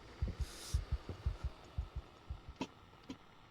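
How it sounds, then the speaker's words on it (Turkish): Heartbeat in the horror video game I Am Not Alone, a steady run of deep thumping double beats, close and prominent over a dim droning background. "Kalp atışları da var."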